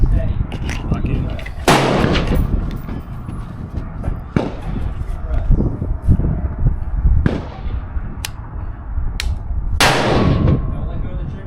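Rifle shots from a budget MK18-style carbine at an outdoor range: several loud, sharp reports at uneven intervals, a couple of heavy booms standing out over steady background noise and occasional voices.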